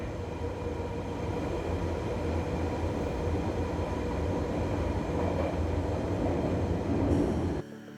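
A London Underground train rumbles loudly and steadily as it rolls along, the noise cutting off abruptly near the end.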